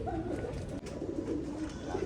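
Pigeons coo in a steady low murmur on a rooftop pigeon setup in Rampur, the soft overlapping calls continuous and fairly close throughout.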